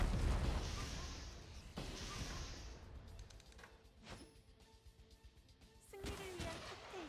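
Tanks firing a volley in the mobile game Steel Waltz, a burst of heavy booming shots at the start followed by scattered sharper cracks and impacts, moderately loud over a dull rumble.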